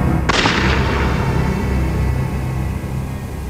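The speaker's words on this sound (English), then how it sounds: "her housemate, Dale Okazaki, heard the gunshot" A single sharp gunshot cracks near the start, then a long rumbling decay tails off under a low steady background.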